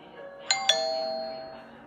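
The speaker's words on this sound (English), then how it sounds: "when the doorbell rang" A doorbell rings once, two quick chime notes that then ring out and fade slowly in a quiet room.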